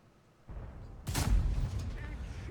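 In a tank video game, the Object 268 Version 4 tank destroyer fires its gun, giving a single heavy boom with a rumbling tail that follows a low engine drone, while a commentator talks over it.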